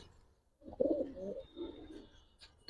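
Giribaz pigeons coo in a loft, a few low rolling coos rising briefly and alone over faint background hum.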